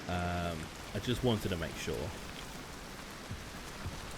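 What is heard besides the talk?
rain in the video game Hunt: Showdown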